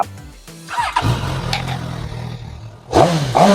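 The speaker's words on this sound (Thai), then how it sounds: "ฟังเสียง เครื่องยนต์กันนิดนึงนะค" A 2020 Suzuki GSX-S1000S Katana motorcycle engine idles close by, then revs up sharply twice, a loud rising mechanical roar.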